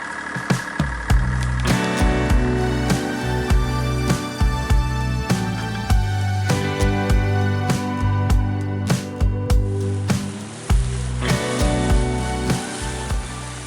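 A sailboat motoring under engine power on a calm, windless stretch off the east side of the Isle of Bute, its steady, loud engine drone running throughout with rhythmic knocking pulses and no talk.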